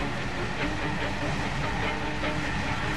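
Steady rumble and hiss of a train running on rails, heard from inside a carriage as a continuous low drone with faint rhythmic clatter, alone without talk.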